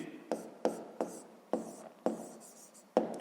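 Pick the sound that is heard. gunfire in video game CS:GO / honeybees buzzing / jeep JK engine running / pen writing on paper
pen writing on paper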